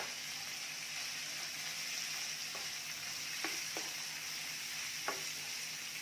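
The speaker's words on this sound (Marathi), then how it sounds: "आता जो कोबी आपण घेतलेला आहे कट करून तो घालायचा आहे." Chopped cabbage fries with dal in a pan, a steady close sizzle running throughout with a few light stirring clinks, no talking.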